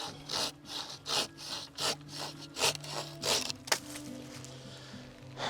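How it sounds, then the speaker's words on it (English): A hand pruning saw cuts through a tree branch during winter tree care in Texas, pushing out a run of rhythmic rasping strokes about twice a second, close and moderately loud, that slow and soften toward the end. "we can just do a pruning cut, which you want to make perpendicular to the branch"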